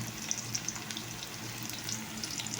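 Onions sizzling in a pan, a soft continuous fry with faint crackles and light pops at a quiet level, no voices.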